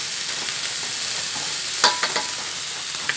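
Papaya flowers seasoned with palm sugar, broth powder and salt sizzle in a pan, with soft frying hiss broken by a few quick spatula scrapes and taps near the end.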